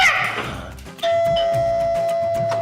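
A house doorbell rings at the front door: a short rattle, then a single clear sustained chime that holds steadily to the end.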